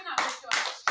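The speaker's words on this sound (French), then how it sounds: "Applaudissez pour le Seigneur." A church congregation claps in unison, three sharp, loud collective claps spaced out across a short moment with no talk over them.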